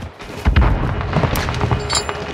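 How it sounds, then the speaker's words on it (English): Stun grenade detonating in Call of Duty, a loud booming burst near the start followed by rumbling, crackling debris and scattered sharp pops. "stun grenade out"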